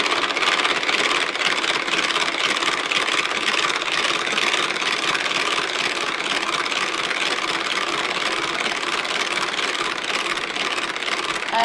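Speedy electric mixer on speed 1 whipping egg whites into stiff peaks, a steady, even motor whir with a beating buzz that runs unbroken and fairly loud throughout.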